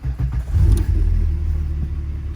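A car engine turns over and settles into a smooth, deep rumbling idle, close by and steady after a brief rev.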